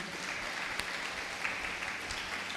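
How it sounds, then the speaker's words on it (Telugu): Congregation clapping during a Telugu church sermon, a continuous but fairly soft wash of applause with a few sharper claps standing out, no talking on top. "గట్టిగా చప్పట్లు కొడదామండి"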